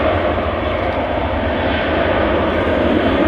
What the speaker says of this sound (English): Oh, we're getting some good engine sounds though.